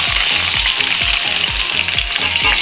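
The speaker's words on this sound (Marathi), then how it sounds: "त्यामध्ये कढीपत्ता टाकून घेणार आहोत तो थोडासा पडला की आता त्यामध्ये सर्व घेतलेले मसाले टाकून घेऊया" Curry leaves and spices crackle and sizzle in hot oil for a shimla mirchi (capsicum) sabzi, a loud steady frying hiss with a repeating ticking pulse underneath, no voices.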